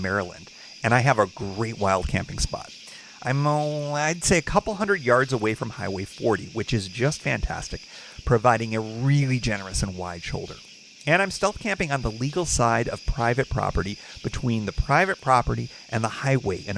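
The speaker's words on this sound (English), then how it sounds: "You can probably hear the crickets and maybe a little traffic in the background." Crickets chirp steadily at night in dense woods beside Highway 40 in Maryland, a constant high shimmer running beneath someone talking close by throughout.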